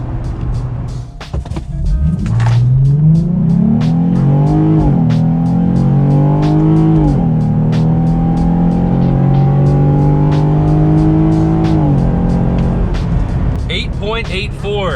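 A Jeep Gladiator with new shocks and full exhaust revs and accelerates hard from 0 to 60, rising in pitch through several gear changes, loud and close, with steady ticking on top.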